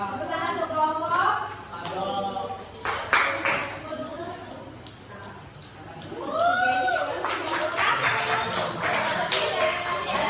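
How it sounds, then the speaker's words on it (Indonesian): A school class claps for a student group, with scattered, uneven hand claps in short bursts, interleaved with children's and a teacher's voices talking over them. "Tepuk tangan untuk kelompok."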